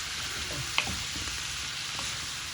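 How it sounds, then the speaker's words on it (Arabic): Chopped onion sizzles steadily in a hot pan as it is fried and stirred for béchamel pasta with minced meat, with a brief scrape of the utensil early on over the continuous crackle. "هسه نضيف البصل"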